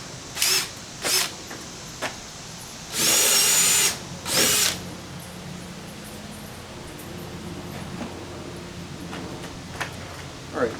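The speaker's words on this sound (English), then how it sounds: "I'm just going to go with a 1/4 inch bit." A power drill fitted with a 1/4 inch bit bores a hole while building a car stereo test bench, giving short loud whirring bursts with one longer steady run in the middle, then quieter handling noise.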